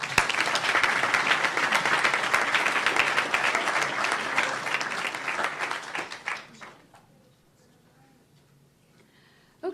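An audience breaks into sustained applause to welcome a 20-year-old nursing student who is giving a talk, the clapping loud and dense for about six seconds before fading into near silence.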